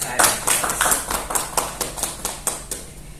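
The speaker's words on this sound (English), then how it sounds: "please welcome big applause for Professor Alma Sofi Fadila" A small academic audience welcomes a professor with sparse applause, about a dozen distinct, evenly spaced claps at moderate volume with no talk over them.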